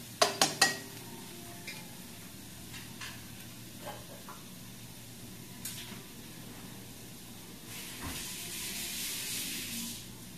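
Garlic, onion and vegetables sauté in oil in a pan. A few quick metallic clatters from a utensil open the sound, then a soft, steady sizzle swells into louder frying hiss near the end.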